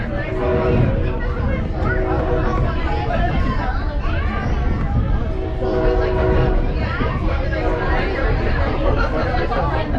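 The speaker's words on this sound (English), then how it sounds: "We're on the last train of the day." A train on the Oregon Coast Scenic Railway between Garibaldi and Rockaway Beach rumbles steadily along with a sustained horn tone sounding through much of the ride, while people chatter nearby.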